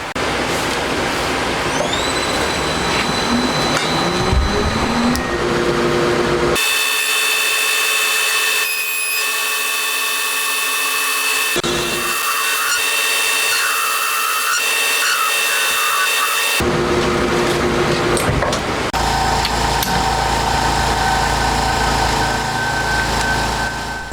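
Machining a crankshaft for a homemade 125cc four-cylinder 16-valve engine, held in a jig; loud continuous cutting and tool whine with abrupt shifts in pitch and tone, close up and without talk.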